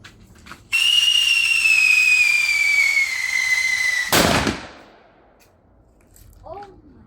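A whistling firecracker (paputok) screams loudly for several seconds with a steady, slowly falling whistle, then ends in a sharp, sudden bang, followed by quieter background and a faint voice.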